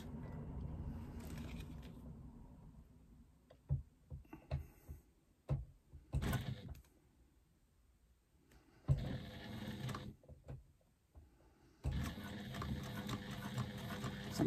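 A foot-pedal sewing machine stitches along a seam. It runs in several separate bursts of close, steady mechanical whirring, with quieter pauses and a few clicks between them.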